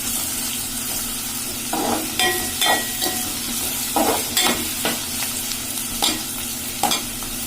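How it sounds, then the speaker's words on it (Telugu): Onions and green chillies fry in a pan with a constant hiss, while a spatula stirs in regular scraping strokes about once a second, close and clear with no talk. "ఆనియన్స్ కొద్దిసేపు వేగనిద్దాం"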